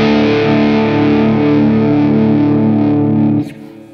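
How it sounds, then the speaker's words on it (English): Cheap electric guitar played through a microphonic bridge pickup with heavy distortion, a loud sustained chord ringing for several seconds before it is cut off and decays. "This bridge pickup is definitely microphonic. It's picking up a ton of crap."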